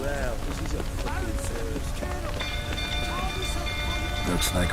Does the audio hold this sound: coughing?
no